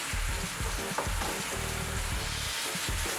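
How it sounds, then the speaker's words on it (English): Vegetables for a seafood spaghetti sizzle in a pan while a spoon stirs them, a continuous close frying hiss with soft scrapes and clicks, no voices. "You're going to stir them just a little bit."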